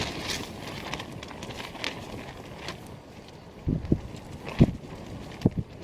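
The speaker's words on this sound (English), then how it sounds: "It's so windy and so cold" Strong, steady wind buffets the microphone at a cold mountain lake campsite, a continuous broadband roar with a few close knocks and flaps toward the end.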